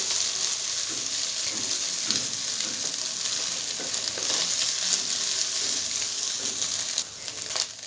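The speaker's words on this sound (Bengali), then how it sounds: "যতক্ষণ না ঝুড়ো ঝুড়ো হচ্ছে এগুলোকে নাড়তে থাকবে।" Potatoes are stirred in a hot pan until they break up and turn crumbly, with a continuous close frying hiss and soft scraping strokes of the spoon, and no talking.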